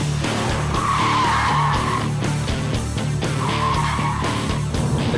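A Volvo car skids through a tight show-off turn manoeuvre at a driving academy, tires squealing loudly in two long drawn-out bursts over a steady roaring engine.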